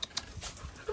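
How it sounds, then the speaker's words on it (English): Dogs whimper and yip in short, faint bursts indoors, a brief close-up of soft high whines. "Oh, these are beautiful dogs."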